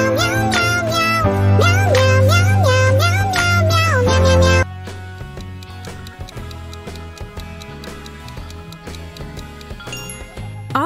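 Bongo Cat meme sound: a loud, catchy tune with meow-like sung notes over a heavy beat for several seconds, dropping into a quieter tinkling melody, with no talking.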